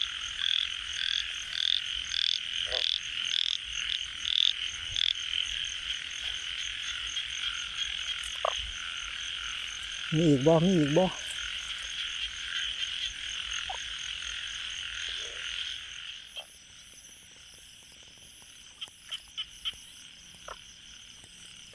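Narrow-mouthed frogs croak steadily after fresh rain, a dense continuous chorus running for most of the stretch and thinning near the end, with a few brief voices speaking over it.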